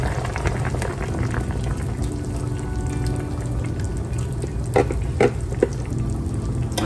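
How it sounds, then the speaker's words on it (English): Honey dijon cream sauce bubbling in a pan, a dense continuous sizzle and simmer with a few louder pops and plops near the end, close and steady with no talk. "we're gonna get it to bubbling just like this"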